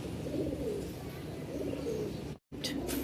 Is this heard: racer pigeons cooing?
yes